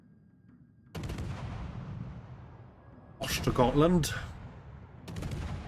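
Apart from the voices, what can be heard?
warship guns firing in the video game World of Warships Legends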